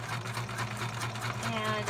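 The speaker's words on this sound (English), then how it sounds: "I'm going to go ahead and come over to my sewing machine and sew around this. I have it on zigzag." A sewing machine set to zigzag stitch runs steadily while sewing around a fabric pull tab for a junk journal pocket. The motor hum is close and continuous throughout, with a faint voice underneath.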